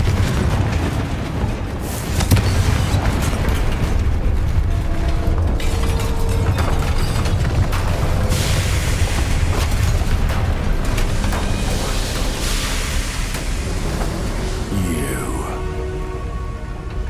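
Confringo spell explosions in Hogwarts Legacy combat, loud booming blasts over a dense, continuous roar of battle noise, with a voice calling out spells in the mix.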